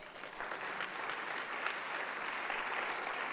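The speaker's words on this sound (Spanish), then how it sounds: "Denle un aplauso al Señor." Congregation applauding during a church sermon, a steady, fairly faint wash of clapping that holds evenly throughout.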